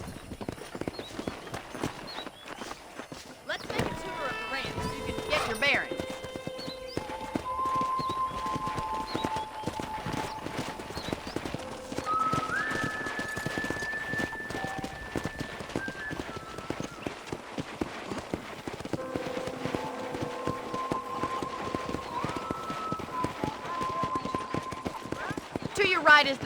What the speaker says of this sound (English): Okay, let's see if you can still ride a horse.